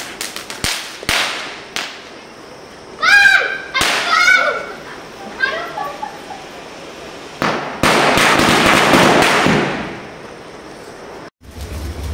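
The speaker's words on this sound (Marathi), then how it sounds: "इथं वाजवत आहे का फटाके" Firecrackers burst at night during Bhaubeej celebrations, sharp pops and crackling volleys, some single bangs and a long dense crackle, with voices talking in between.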